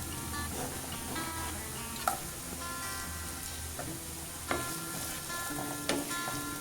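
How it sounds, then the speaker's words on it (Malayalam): Coconut pieces sauté in hot oil with ginger and garlic for a Kerala-style beef fry, giving a steady close sizzle broken by a few sharper scraping stirs of a spatula against the pan. "ഇനി ഇതിൻ്റെ കളറ് ചേഞ്ച് ആവുന്ന വരെ ഒന്ന് വഴറ്റി കൊടുക്കാം."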